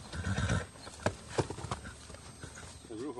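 Criollo horses in Argentina whinny and neigh while hooves strike in a few sharp, uneven thuds, with a narrator speaking over part of the scene.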